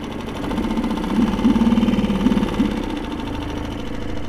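A Mercury 3.5HP outboard motor idles in neutral while warming up after a restart, a steady close putter with a slightly louder swell midway, running alone without talk.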